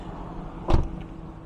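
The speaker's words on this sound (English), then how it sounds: "So popping the hood" The hood release on a 2012 Ford Mustang Boss 302 Laguna Seca gives a single short, close thunk and pop amid quiet garage room tone, with no speech.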